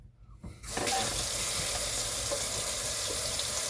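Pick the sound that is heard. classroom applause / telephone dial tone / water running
water running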